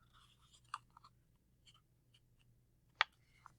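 A white sheet of paper is folded, heard as sparse, crisp rustles and a couple of sharp creasing snaps up close in an otherwise quiet room.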